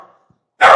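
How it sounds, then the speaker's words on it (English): A dog named Rocky lets out a sudden loud bark at the very end, after a faint murmur and near silence; one short, close, forceful burst. "Rocky the dog is joining us. He wants everybody to know that he's here."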